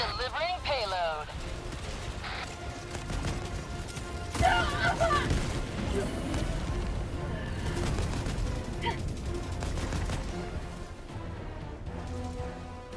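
Enemy bots firing at the player in Helldivers 2, a steady stream of rapid shots and occasional heavier booms layered under game effects, with a person talking throughout.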